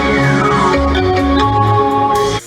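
The Intel audio logo: a short, bright electronic jingle with a few stepped tonal notes, loud and clear, ending abruptly.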